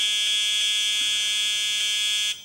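A steady, harsh electronic buzz tone from a 555 timer circuit at about 263 Hz, rich in overtones and alarm-like, holding constant for about two seconds before cutting off.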